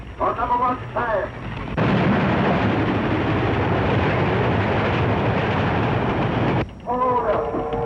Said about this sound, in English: Bound train coming. On number 1 side.